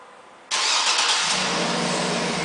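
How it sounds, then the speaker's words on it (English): A 2009 Cadillac Escalade ESV started by remote start: a quiet lead-in, then a sudden cranking catch as the engine fires and settles into a loud, steady idle close by. "And the car starts right up."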